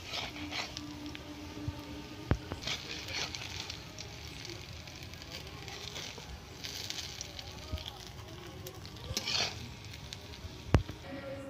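Shrimp fritters frying in oil give a soft, continuous sizzle with scattered pops and crackles. The sizzling is quiet and close, with faint talking in the background.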